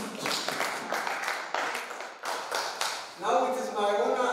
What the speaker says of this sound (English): join me in another round of applause